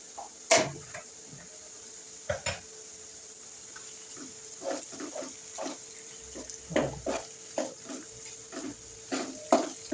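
Ginger garlic paste is stirred into half-fried pieces in a sizzling pan, a spoon scraping and tapping the metal in irregular knocks over a low, steady frying hiss.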